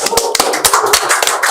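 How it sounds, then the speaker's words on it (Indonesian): A podcast studio audience applauds for a guest, a brief burst of loud, close, irregular hand claps. "Saya minta tepuk tangan yang meriah untuk Bapak Haji Subhan ST."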